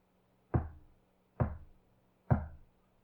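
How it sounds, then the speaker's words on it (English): Three dull, evenly spaced knocks ring out somewhere in the trees, each with a short decaying tail, moderately close and alone against a quiet background. "Only a dull knocking somewhere in the trees."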